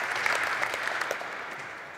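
A steady burst of audience clapping and cheering in a hall, many hands at once forming a dense, even roar that slowly tapers at the end.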